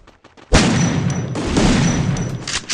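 A single loud M1014 shotgun blast in Garena Free Fire booms after a quiet start, its roar and echo sustained for about two seconds with a second hit near the end.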